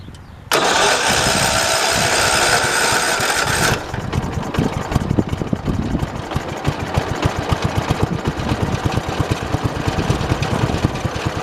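A 1968 riding lawn mower engine runs steadily while mowing, loud and close, with a harsh high-pitched whine over the first few seconds before settling into a rough, pulsing throb that continues throughout.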